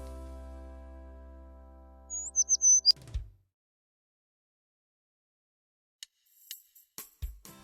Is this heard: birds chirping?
yes